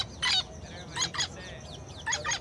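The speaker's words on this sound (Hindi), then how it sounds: "चिड़िया भी है, तोते भी हैं" Birds chirp and call at a bird shop that keeps small birds and parrots. Several short, bright bursts come in quick clusters across a faint, steady room background, and no one speaks.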